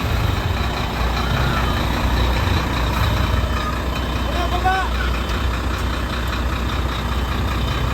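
A garbage truck collecting rubbish in a Philippine neighbourhood rumbles loudly and steadily, with faint intermittent beeps and engine drone filling the scene.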